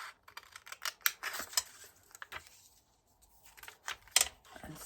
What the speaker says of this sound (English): I'm going to fussy cut this